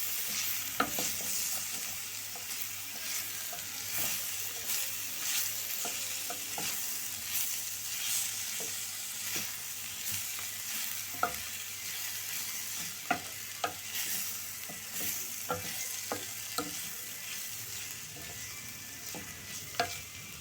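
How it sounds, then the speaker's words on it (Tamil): Finely chopped tomato and coriander sauté in oil for a snake gourd kootu, giving a continuous crackling sizzle with irregular sharp clicks and scrapes of a spoon stirring the pan, close and without talk. "இதுவும் நல்லா அப்படியே எண்ணெயிலே வதங்கட்டும்."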